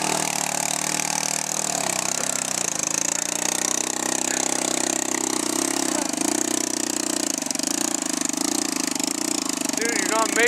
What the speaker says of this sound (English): XL125S enduro style dirt bike with a 200S three-wheeler engine in it.